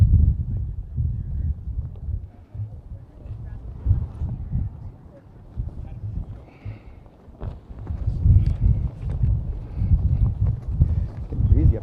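Wind buffeting an outdoor microphone during a live stream in Lunenburg, a steady low rumble that swells and fades in gusts while people talk.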